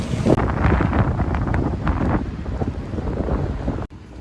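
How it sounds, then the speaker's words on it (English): Strong wind buffets the microphone on a street in Buenos Aires with loud, continuous low rumbling and gusty roar, cutting off abruptly near the end. "Apologies for the wind, but it is very windy today."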